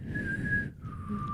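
Two short whistled notes, the first held higher and the second lower, soft and close with a faint hum of background noise.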